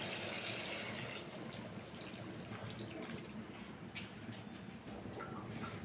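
Water pours steadily into a pot of chicken curry, a continuous close splashing trickle with no talking.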